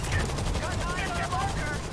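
Heavy gunfire from a big gun in the zombie shooter World War Z, a dense continuous burst of rapid shots that fills the whole moment, loud and close, with game noise layered underneath.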